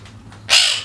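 A pet parrot gives a single harsh squawk, loud and close, rising abruptly out of a quiet room and lasting about half a second.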